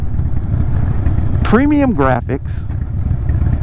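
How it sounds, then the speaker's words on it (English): A 2017 Harley-Davidson CVO Breakout with aftermarket exhaust pipes rumbles steadily throughout, its low engine drone continuing under a man's speech. "the sound of the motor combined with these aftermarket pipes that's on here"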